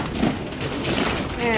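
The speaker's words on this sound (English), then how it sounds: "probably can't hear me because of the other pigeons that are in here" Trapped pigeons coo steadily inside a trap, a dense, continuous murmur of several birds close to the microphone.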